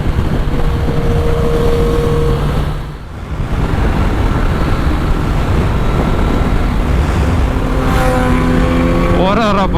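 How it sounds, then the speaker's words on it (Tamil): Motorbike riding a highway at night under loud, continuous wind and engine roar, with a passing vehicle rushing by that sounds like an aeroplane, a brief dip midway, and a rising whine near the end. "ஆக்சுவலாக ஏரோப்ளைன் சவுண்ட் வருதுங்க ஒரு வண்டி."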